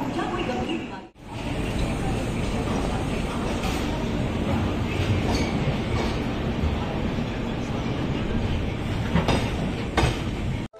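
The Azad Hind Express, Howrah to Pune, stands at platform 3 of Nagpur station in the evening, with a continuous loud rumble and rattle of rail cars and busy platform noise throughout.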